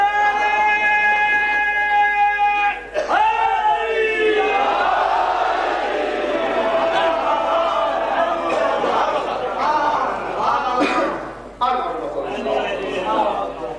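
Crowd at a Shia majlis mourning gathering in Multan, many voices raising a loud chanted slogan together, a sustained swelling roar following a single voice.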